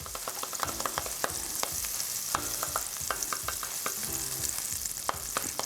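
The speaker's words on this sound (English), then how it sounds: "we're gonna get some butter going in our skillet. Let that" Butter melting and sizzling in a skillet, a continuous bright crackle with many rapid pops and occasional utensil taps, fairly close and steady throughout.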